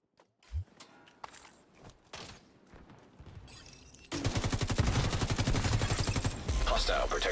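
Video game gunfire while being sniped, with scattered single shots and clatter at first, then a loud, rapid, sustained burst of automatic fire close by.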